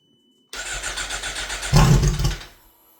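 A 2018 Suzuki GSX-R1000R sport motorcycle under repair fires up after a brief cranking whir, catching into a loud rising rev burst before dropping quickly toward quiet, heard alone and close.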